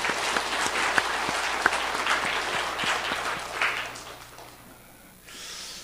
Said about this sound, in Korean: 박수도 치십시오. 하나님께 드리는 거니까.